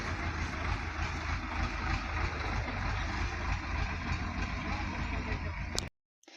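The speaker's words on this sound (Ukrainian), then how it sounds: "трактористи комбайньори їдуть" Tractors and combine harvesters drive past near a farmyard, a steady low engine rumble and broadband mechanical noise that holds evenly for several seconds before cutting off abruptly.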